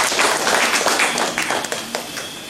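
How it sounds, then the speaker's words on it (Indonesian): Applause from a crowd at a tourism app launch event, a dense patter of many hands clapping steadily for a couple of seconds, tapering slightly toward the end. "Ini luar biasa, mohon tepuk tangannya."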